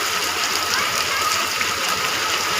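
Rain and running water pour in a steady broadband rush, close and constant, with a faint splashing texture and no clear break in the flow.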